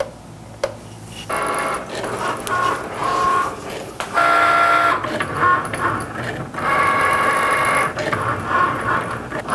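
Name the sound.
Cricut Maker cutting machine cutting a card stock card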